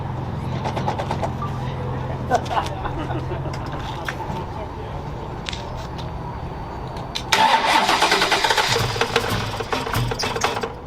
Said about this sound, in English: How about that cold start?